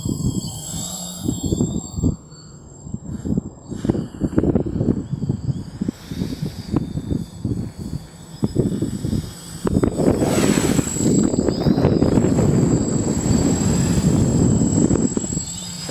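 An ArduCopter drone flies over ice, its motors whining and buzzing nearby in varying bursts and then a louder sustained drone, while people talk intermittently over it.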